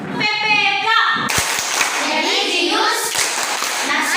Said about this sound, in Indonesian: kita tepuk PPK dulu supaya kita lebih semangat